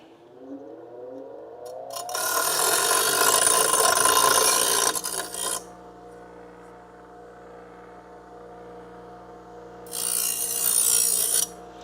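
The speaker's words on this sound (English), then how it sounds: "I'm just gonna put this on the bench grinder real quick and we're gonna just get rid of all the burr" A bench grinder deburring metal on a car frame rail repair: the motor winds up, then a loud, close, harsh grinding rasp runs for a few seconds over its steady hum, followed by a second short grinding burst.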